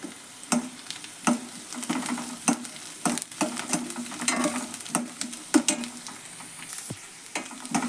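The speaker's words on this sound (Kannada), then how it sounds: "ನೋಡ್ರಿ ಎಣ್ಣೆ ಒಳಗೆ ಕರಿಯಾಕತ್ತೈತಿ" Grated coconut, coriander and garlic fry in hot oil, giving a quiet, close sizzle broken by irregular scraping and stirring clicks against the pan, with no speech.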